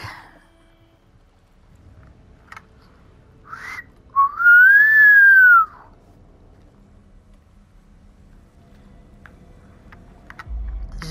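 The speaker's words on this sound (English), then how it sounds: "Did you know I could whistle?" A lone person whistles a single sustained, rising-then-falling tone lasting about a second and a half, loud and close in an otherwise quiet room, with no talk over it.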